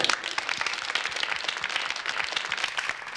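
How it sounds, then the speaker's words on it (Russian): Studio audience on a television game show clapping, a steady round of applause with distinct individual claps audible, moderately close and unbroken. "Ну, пожалуйста, аплодисменты."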